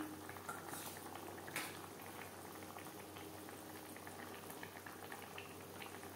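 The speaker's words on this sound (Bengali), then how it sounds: "গ্রেভি বেশ ভালো করে ফুটতে শুরু করে দিয়েছে।" A tilapia fish curry gravy bubbles at a steady boil in a pot, a continuous close, soft simmering hiss with small pops and no voices.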